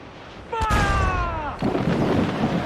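Ship cannons fire during a naval battle in Assassin's Creed IV Black Flag, with a sharp loud boom followed by a sustained rumbling blast, over a tonal call and ambient battle noise.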